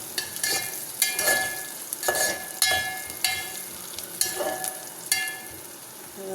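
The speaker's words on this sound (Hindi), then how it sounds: "इधर मैंने प्याज डाल दिए गाइस। अब ये हो रहा है प्याज ब्राउन।" Onions browning in a hot pan, an even crackling sizzle punctuated by regular clanks and scrapes of stirring.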